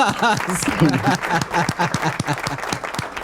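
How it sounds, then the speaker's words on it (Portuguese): Applause greets a guest on a live show, dense clapping mixed with overlapping voices talking and calling out across the whole stretch. "André Padilha, palmas!"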